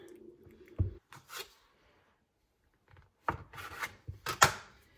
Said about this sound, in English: a dough scraper, I think they're called, or a dough cutter. So I'm just putting this into equal portions.